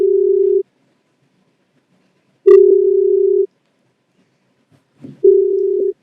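Telephone dial tone heard while a call is being connected: a steady electronic beep sounding in three separate bursts with silent gaps between them, plus a short faint click near the end.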